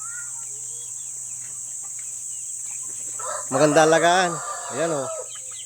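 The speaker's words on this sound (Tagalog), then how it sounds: "mag-alaga ng mga ganitong manok" Two-month-old free-range breeder chickens on a farm let out a couple of loud, close, drawn-out calls after a quiet stretch, while a person speaks nearby and a faint steady hum runs underneath.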